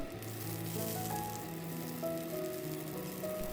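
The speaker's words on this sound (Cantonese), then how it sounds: "落蔥白，煎香佢，" Spring onion whites fry in a little oil in a wok, giving a steady, moderate sizzle that runs the whole time with sustained tones layered behind it and no talking.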